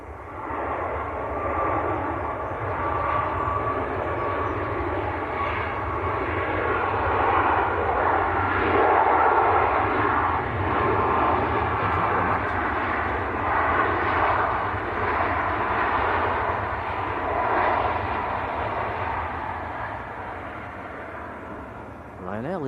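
Jet airliner landing on a wet runway at Manchester Airport with thrust reversers engaged, a loud sustained roar that swells through the middle and slowly eases off toward the end.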